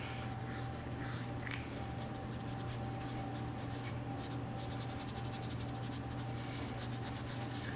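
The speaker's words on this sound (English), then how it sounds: "I'm just gonna go around him with some Scotchy Brite. Clean all this dirt grunk out." Close, continuous rubbing and scrubbing of a Scotch-Brite pad against the dirty front wheel hub of a 2016 Honda CRF230F dirt bike, steady and even with no talk.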